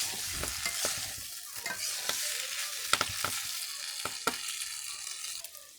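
Pasta cooking in a pan on a home stove, stirred with a spoon: a steady broadband sizzle runs throughout, broken by several sharp scraping and clacking stir strokes, close and fairly quiet, with no talking.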